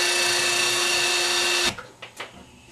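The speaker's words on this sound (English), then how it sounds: "But this is a palm sander. Just use that angle, take a little bit off the top." A palm sander grinding against a skull mount, a loud steady high whine that cuts off abruptly partway through, followed by a few short scraping and handling noises.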